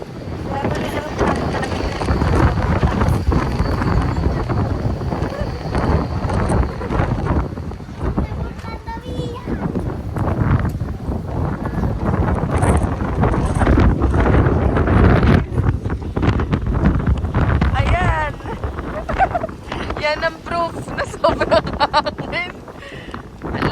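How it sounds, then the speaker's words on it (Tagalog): Loud, constant wind buffeting the microphone in a low roar on a cold day in Zürich, with a person talking intermittently in Filipino over the gusts. "Sobrang hangin."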